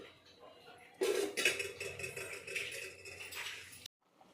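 Paruppu urundai, lentil dumplings, dropped one by one into a pot of simmering kuzhambu, with close clattering and scraping of the pot and utensil for about three seconds before it abruptly stops.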